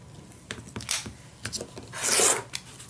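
Paper scraps are trimmed off a handmade recycled envelope. Close, dry cutting and rubbing sounds come in short irregular strokes, ending in a longer rasping tear of paper, with no talking.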